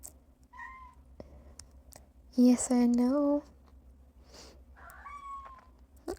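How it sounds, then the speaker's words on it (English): An orange and white stray cat gives a short, close meow with a rising, sliding tone. Someone speaks softly before and after it against a quiet background. "This stray cat is so cute. She even sounds so cute."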